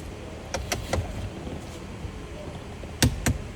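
A torque wrench clicks while a steering wheel nut is tightened to 46 foot-pounds, with a few sharp clicks early and a louder pair of clicks near the end over a quiet background.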